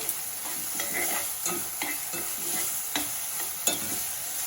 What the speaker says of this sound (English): I'm just going to make sure that all of my meat is evenly coated with this seasoning.